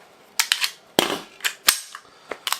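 An HK P7 pistol is fired, giving a quick string of sharp, close reports, some spaced and some nearly doubled, over about two seconds, with no talk.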